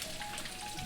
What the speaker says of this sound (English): I'm frying low and slow because I want to make sure that that chicken is cooked in the middle